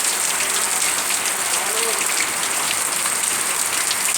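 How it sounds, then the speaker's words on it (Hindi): Heavy rain pours steadily at Islampur in Uttar Dinajpur, a dense, even hiss of drops hitting surfaces, with voices faintly audible underneath. "वाह क्या झक्कास बारिश हो रहा है क्या"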